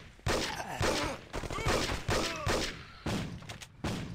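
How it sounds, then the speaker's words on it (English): Enemies fire guns at the player in the Mob Enforcer video game: a run of loud, punchy gunshot bursts repeating about every half second, some spaced wider, with no talk. "Oh crap, there are boys shooting at me."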